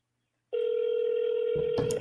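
A telephone call sounds a steady single-pitch line tone that starts abruptly and holds, with a brief click or rustle near the end.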